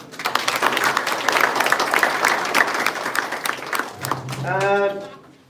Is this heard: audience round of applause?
yes